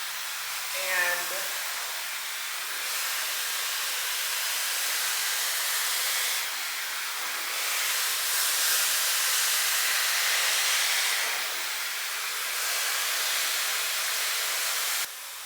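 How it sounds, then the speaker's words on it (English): A blow dryer on its low setting dries wet, curly hair, giving a steady breathy hiss that runs almost the whole time. A brief click sounds near the start, and the airflow shifts slightly in intensity as the dryer moves. "I'm just gonna blow dry it just for a teeny bit on low."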